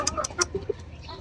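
A pet hen gives a few short, soft clucks up close at an uneven pace against a quiet background.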